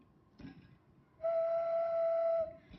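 A handmade clay whistle gives one steady, clear, close tone lasting just over a second, after a soft knock and quiet breathing.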